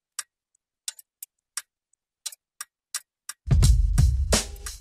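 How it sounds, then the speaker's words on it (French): Clock gears tick and click in sparse, irregular, crisp taps, close and clear in near silence, before a louder burst of mechanical rattling and clattering takes over at the end. "Les rouages d'une horloge qui craquent et qui cliquent"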